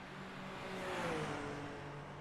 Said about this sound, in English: Good to hear that you can hear the engine now as well as us too.